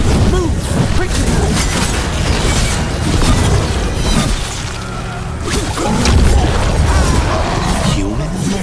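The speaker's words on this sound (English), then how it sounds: "They got mortars!" Mortar fire and explosions in Dragon Age: The Veilguard, with heavy booms, crashes and debris rumbling continuously and loud, under shouting voices.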